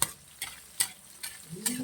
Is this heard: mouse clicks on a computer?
no